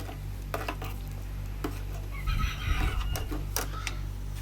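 Utensils clink and scrape against a pot of southern Thai grilled-fish curry being stirred, with a brief stretch of stirring and sloshing, fairly quiet and close, no voices.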